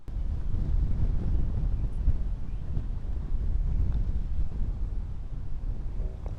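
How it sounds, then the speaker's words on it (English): Wind buffets the microphone on a golf course during a stroke play match. A loud, constant low rumble with gusty surges fills the whole stretch, and no one speaks. "there's a lot of wind in here"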